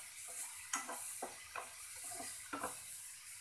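Peas sautéing in a pan for matar paneer give a faint, steady sizzle, broken by several soft spoon scrapes and taps against the pan at an irregular pace.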